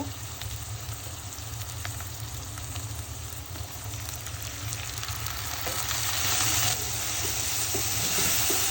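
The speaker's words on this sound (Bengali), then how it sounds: "মশলা ভালো করে কষিয়ে নিলাম" Steady, loud sizzling of ground spices and chili powder frying in a pan for a Bengali tiger prawn bhuna, a continuous crackle with occasional stirring that grows slightly louder toward the end.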